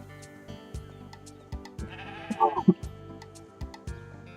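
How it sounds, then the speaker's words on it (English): A sheep bleats once, clear and fairly close, over a soft repeating musical background in the video game Discounty. "I'm a little concerned everyone has a sheep outside."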